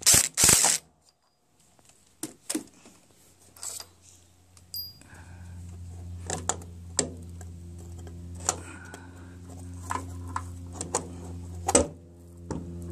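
Tight bolts being loosened on a John Deere STX30 lawn tractor with a Kohler 12 hp Command engine during restoration, giving sharp metallic clicks and ratcheting ticks scattered irregularly over a steady low hum, close by.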